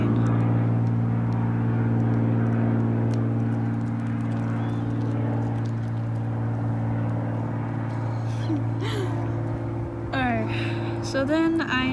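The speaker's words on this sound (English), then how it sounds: "And there's an airplane." An airplane passing overhead makes a low, steady drone that runs through the whole stretch, with people talking over it toward the end.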